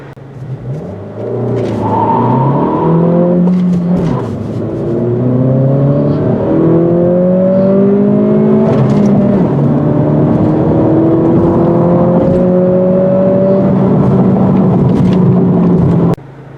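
A 2023 Acura Integra with a six-speed manual accelerating through the gears, its engine note climbing in repeated rising sweeps with brief dips at shifts, steady and fairly loud from inside the car with no talking.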